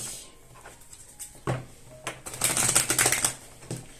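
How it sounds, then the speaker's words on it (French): Playing cards being shuffled: crisp riffling and flicking, building into a dense, rapid flutter of card edges, close and fairly clear. "on me dit de continuer à battre les cartes"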